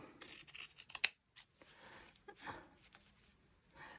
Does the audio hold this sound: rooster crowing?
no